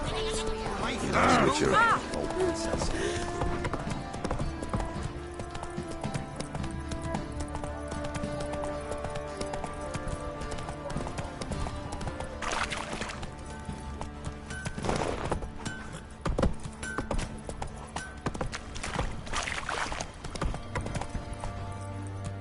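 Hooves of the horse Roach clip-clop steadily across ground in The Witcher video game, a continuous rhythmic trot under game voices and ambient sounds, with occasional bleats from nearby animals.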